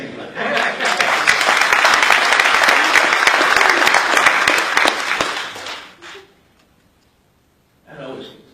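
A large audience bursts into loud, sustained applause at a conservative political speech, the clapping swelling and holding for several seconds before cutting off, followed by a brief pause and then a voice speaking.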